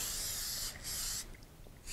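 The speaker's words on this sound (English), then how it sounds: "we're going to give it a light spray with some Bake Easy" Bake Easy release spray misted from a can onto parchment paper cut to fit a baking pan: two close, steady hissing bursts, the second longer, then quiet.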